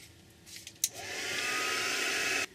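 A hair dryer switches on and blows steadily at close range, drying stamped white ink or paint on a crafting project, its even whooshing airflow sustained for about two seconds before cutting off.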